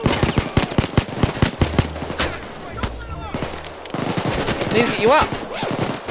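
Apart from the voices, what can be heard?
gunshot from a virtual reality shooter video game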